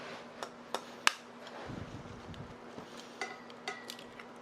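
A raw egg is cracked for zucchini pancake batter, giving a few sharp, close taps and cracks spaced over a few seconds against a quiet kitchen background.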